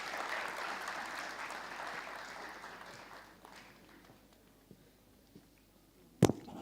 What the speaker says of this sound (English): Mr. Guglani, please give him a big round of applause